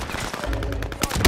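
Rapid gunfire in a shooter video game, a dense burst of loud, close shots crowding together in quick succession, ending in heavier blasts.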